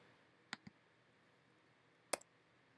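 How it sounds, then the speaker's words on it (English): Mouse clicks from cutting a clip with the blade tool in editing software, two quick faint clicks followed by a sharper double click later, close and alone in a quiet room. "So I'm going to cut right here."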